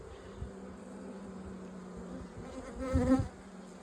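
Honey bees buzz close by at an apiary in a steady hum that swells louder near the end, with no voices.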